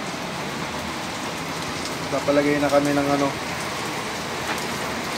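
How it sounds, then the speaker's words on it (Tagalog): Heavy rain pours down steadily in a dense, continuous hiss, with a person briefly talking over the downpour. "Lakas ng ulan."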